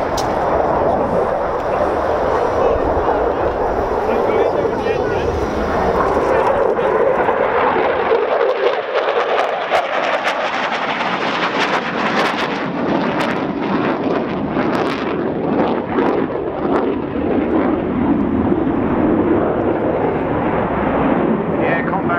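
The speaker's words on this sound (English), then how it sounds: "without doubt one of the most successful NATO Allied Forces aircraft ever to reach operational activity" A Belgian Air Component F-16 fighter jet flies at the RNAS Yeovilton Air Day 2014 air show, giving a loud, steady broadband roar that swells and shifts in pitch as it passes, with a voice faintly under it.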